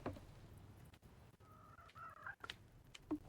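A chicken in the video game Reka clucks in short scattered bursts over a quiet ambient backdrop, close and moderately soft, with brief pauses between calls.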